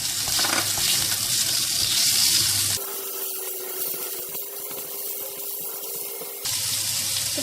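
Marinated meat is tossed into a wok with ginger and garlic, giving a loud, continuous sizzle and stirring scrape that shifts in intensity partway through before the full hiss returns.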